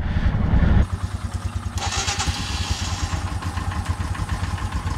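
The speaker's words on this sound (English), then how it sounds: "let's get the bike started" A motorcycle engine on a cold morning, on a high-altitude ride toward Everest base camp, starts with a brief loud crank, then settles into a steady close rhythmic idle that carries on throughout.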